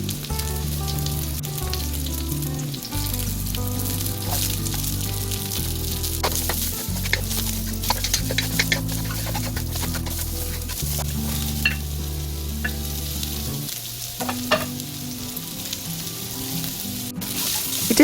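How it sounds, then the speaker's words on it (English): Continuous sizzling and crackling of vegetables frying in a hot wok, with occasional scraping stirs and a low steady hum beneath. "While stir frying the veggies, start with the ones that take longer to cook."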